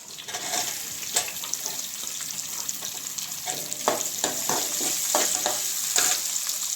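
Green chillies sizzle and crackle in hot oil in a pan while cooking for a prawn curry, with scattered sharper pops and stirring scrapes over a steady hiss, moderately close and without speech.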